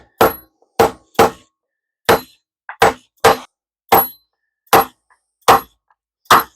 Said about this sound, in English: So what I do is I take the scrap, and I tap all the pieces down.